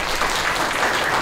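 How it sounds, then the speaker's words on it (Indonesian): A group of children and adults at a Ramadan Islamic school session break into brief, dense applause, loud and close, filling the whole short moment without talk. "Tepuk tangan dong."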